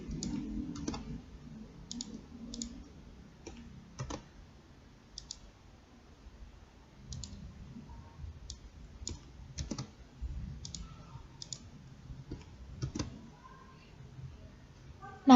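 Scattered keyboard clicks and key taps on a computer keyboard while copying and pasting text, light irregular presses spread across the stretch with quiet pauses between them.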